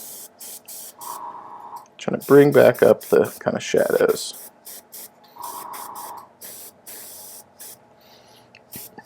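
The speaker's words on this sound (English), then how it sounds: "we're going to kind of spray from the underside on our mini here" Short bursts of aerosol spray paint hit the underside of a thin-coated miniature timber wolf, repeated puffs of hissing spray close by with a person talking between and over them.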